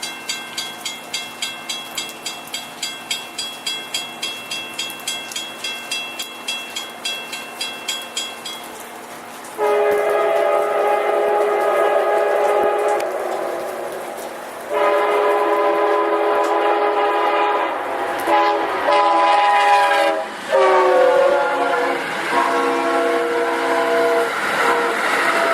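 A train passes on a freezing, rainy day, opening with a rapid rhythmic clatter of wheels before long, loud horn blasts sound in several sustained sections, close by.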